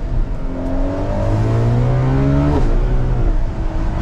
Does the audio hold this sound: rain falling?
no